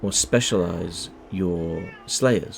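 A house cat meows loudly several times close to the microphone, drawn-out tonal cries overlapping a man's speech at a computer game session.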